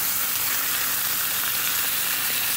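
Red snapper fillet sizzles steadily in a hot pan with garlic, ginger and basil as it is turned, a dense continuous frying hiss without any voices.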